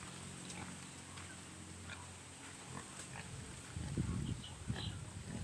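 Native pigs grunt in low, rough bursts at a farm in the aftermath of a typhoon, with the noise growing louder and busier toward the end against steady background hiss.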